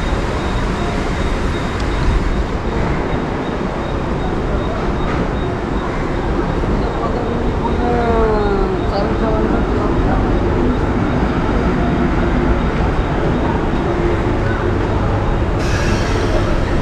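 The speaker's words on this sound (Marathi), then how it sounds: "हे बघा प्लॅटफॉर्मवरती वडाळा ट्रेन आलेली आहे" A Wadala-bound local train pulls into a Mumbai suburban station platform, producing a loud, continuous rumble and rolling roar with faint squeals of brakes or wheels, heard up close the whole time.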